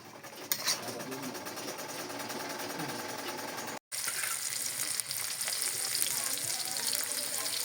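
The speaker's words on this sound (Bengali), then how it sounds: "পেঁয়াজ আর রসুন একসঙ্গে দিয়ে দিলাম, দিয়ে এটাকে একটু লাল লাল করে ভেজে নিব" Onion and garlic fry together in a pan for lentil and bottle gourd dal. The hiss and crackle of sizzling oil stays steady and close, broken by a brief cut of silence midway.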